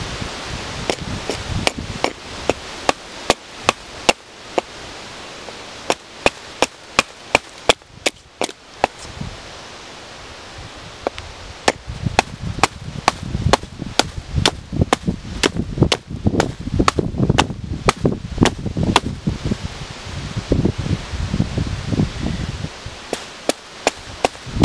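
A new, sharp axe chops wood outdoors in a bushcraft setting, sounding as many sharp, loud, close strikes at an uneven pace over nearly twenty-five seconds, with woody crackling and rustling between blows and no talk.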